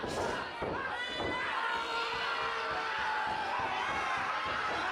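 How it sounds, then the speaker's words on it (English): A wrestler is lifted and slammed down onto the ring mat during a tag team championship match, heavy thuds landing over a constant roar of a cheering arena crowd, with no voices clearly standing out. "Pops him up, slams him down."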